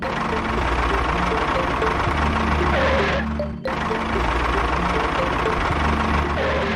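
A toy RC tractor's small motor runs with a steady whirring hum, close and fairly loud, that briefly drops out about halfway before resuming at an even level.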